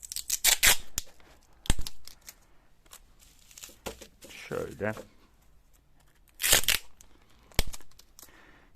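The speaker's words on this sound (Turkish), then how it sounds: "sarıyoruz bu pat pat poşetlere" Crinkly bubble wrap rustling and crackling in several bursts as books are wrapped for shipping, with sharp tearing noises and a person speaking briefly between the handling sounds.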